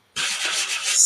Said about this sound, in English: This is an old Stampin' Up! Sanding block